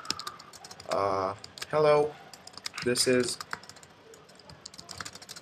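A post being typed on a computer keyboard, with a few bursts of quick close key clatter and a short spoken word.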